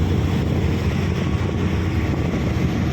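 A ship's engines drone at the stern during an open-sea crossing toward Dumaguete, a loud continuous low rumble mixed with wind buffeting and rushing water, with no voices over it.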